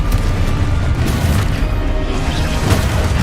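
A Confringo fire-blast spell going off in the video game Hogwarts Legacy, a loud, dense, rumbling boom that fills the clip with a sustained low crash.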